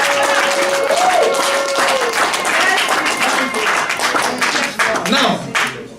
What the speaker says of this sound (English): Give the Lord the biggest clap of praise.